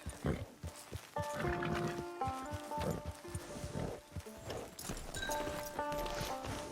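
Rhythmic clip-clop of horse hooves in the video game Red Dead Redemption 2, steady close trotting steps with tonal game music running underneath.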